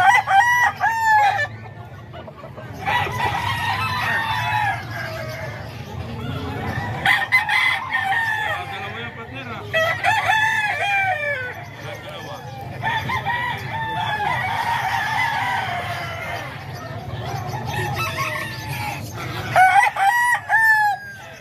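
Roosters and chickens at a Calumpit market crow and cluck repeatedly, several loud overlapping crows rising over a steady bed of clucking and market bustle.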